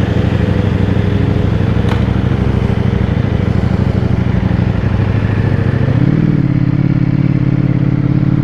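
Ducati V4S motorcycle riding away from a dealership, its engine droning loudly and steadily close to the rider, with a brief rise in pitch near the end as it accelerates.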